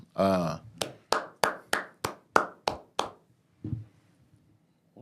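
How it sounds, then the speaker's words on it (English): A short stretch of talk gives way to about eight sharp, evenly spaced hand claps close to the microphone, followed by a faint voice. "I'm just clapping my hands."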